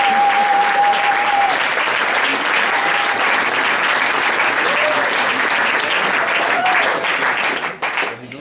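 An audience claps steadily and loudly to welcome a speaker at a music industry conference session, with sustained applause that fades near the end.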